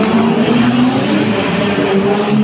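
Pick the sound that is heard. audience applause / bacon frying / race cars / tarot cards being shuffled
race cars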